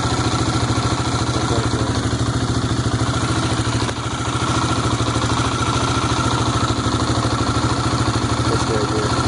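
Yamaha WR250R fuel-injected motorcycle engine idling steadily up close, a loud continuous rhythmic putter with mechanical clatter throughout, one brief dip midway.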